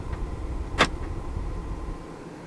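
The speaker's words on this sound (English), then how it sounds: "Electronic central locking." A 2008 Porsche Cayenne S's electronic central locking fires once, a short, sharp mechanical clunk of the door locks inside the cabin, standing out against a quiet background with faint smaller clicks around it.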